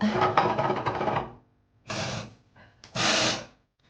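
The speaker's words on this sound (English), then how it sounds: "And then you blow your nose" Several forceful, noisy nose blows, a long one followed by two shorter bursts with brief pauses between, close and fairly loud.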